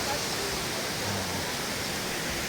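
Stream water at the Villa Elena resort in Laguna, a steady, close, broadband rushing and splashing that fills the whole moment without pause.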